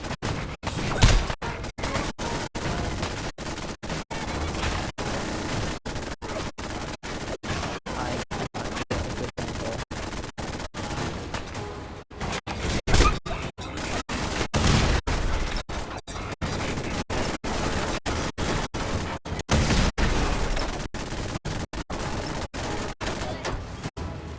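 Missile launcher fire and blasts in the video game Fallout 4, a continuous barrage of loud, overlapping bursts and impacts packed tightly across the whole stretch with no pauses, thick and dense throughout.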